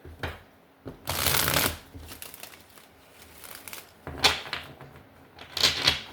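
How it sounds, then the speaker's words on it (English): A tarot card deck is shuffled by hand in three loud riffling bursts separated by quieter handling and tapping, all close to the mic and without talking. "We're going to shuffle 3 times and then we're going to cut the deck"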